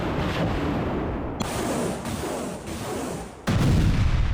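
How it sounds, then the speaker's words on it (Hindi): MLRS rockets fire in an attack on Ukrainian military positions, giving a continuous rough roar of launches with sharp onsets and a louder burst near the end, recorded at a distance. "एमएलआरएस से दागे गए विध्वंसक रॉकेट"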